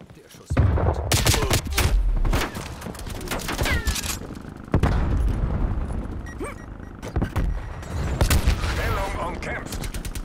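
Gunfire from the video game Call of Duty: Black Ops Cold War, with repeated sharp shots and rapid bursts of automatic fire that stay loud and close throughout.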